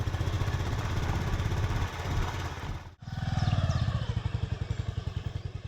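A motorcycle engine rumbles steadily up close, briefly dips, then putters on with a rhythmic idle, at a parking spot on the Bhimashankar trek route via Ganesh Ghat.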